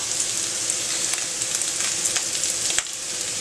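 Mixed vegetables, including thin-cut carrots, sizzle and crackle loudly and steadily in a hot stir-fry pan, a dense, close hiss with occasional pops.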